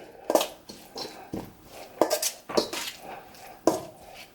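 Chopped onions, sweet pepper and fresh parsley go into a pan with a series of sharp clinks and scrapes of utensil against cookware, irregularly spaced and fairly close, with no voices.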